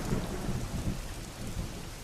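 Steady heavy rain with rumbling thunder in a Naruto Shippuden anime scene, a dense continuous wash of downpour with low thunder rolls beneath, no talking.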